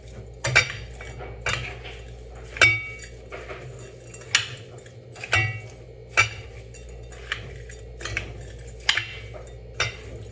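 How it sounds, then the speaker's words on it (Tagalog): A utensil scrapes and clinks against a bowl while homemade fermented fish paste (ginamos) is stirred. The knocks come at irregular intervals roughly every second, close and moderately loud, with no talk. "halo-haloin ka ng maigi para masarap."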